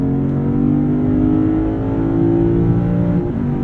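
A deep, loud 2023 Lexus IS 500 V8 engine revs steadily up close, a gravelly, rumbling throaty growl rising slightly in pitch without any talking.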